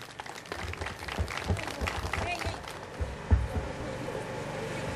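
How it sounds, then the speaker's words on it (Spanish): Applause for graduating students at a 2018 prom ceremony in Huarmaca, a crowd clapping steadily with some cheering and murmur, loud and sustained, with a sharper burst near the end. "Un fuerte aplauso para estos jóvenes promocionales."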